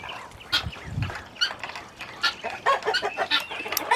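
Brahma chickens and guinea fowl in a farm pen make soft, scattered clucks and chirps, fairly faint and irregular, with a few low thumps mixed in.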